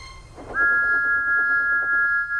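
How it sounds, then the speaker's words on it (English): Steam engine whistle from Thomas the Tank Engine, a single steady high tone held for about two seconds, loud and close over a low rumbling background. "Thomas's whistle soon woke them up."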